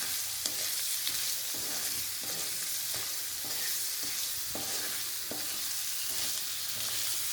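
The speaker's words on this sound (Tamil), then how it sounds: "மிளகு பொடியை போட்டுக்கலாம். எல்லாம் சேர்த்து ஒரு கிண்டி விடலாம்." An egg pepper fry is stirred in a hot pan. Steady sizzling runs throughout, and a spoon scrapes against the metal about every half second in a regular rhythm.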